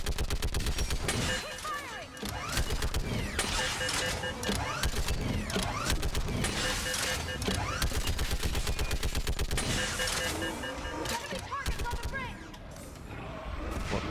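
A mounted gun in Mass Effect 3 fires long, rapid automatic bursts, loud and up front, with brief pauses between volleys and other battle noise mixed in.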